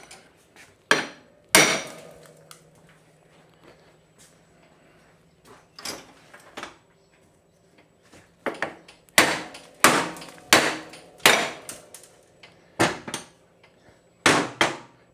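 Sharp metallic hammer whacks knock a ball joint loose on a Honda TRX350TM quad, landing as a scattered series of loud close impacts, with a final cluster of heavier blows toward the end.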